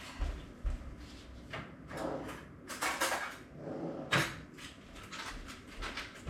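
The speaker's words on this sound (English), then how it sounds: "Let me grab a knife." A kitchen drawer slides and knocks open, followed by rummaging clatter as a knife is taken out, several light bumps and scrapes close by, with no talking.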